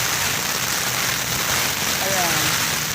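Strong wind and heavy rain roar steadily with a dense, constant wash of noise that never lets up, recorded outdoors during a search-and-rescue duty shift in Bacoor.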